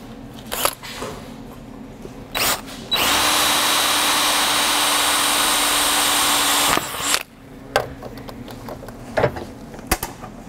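A power drill bores pilot holes in the steel of an octagonal metal end table, one loud steady burst of about four seconds between scattered clanks and handling knocks of the metal workpiece.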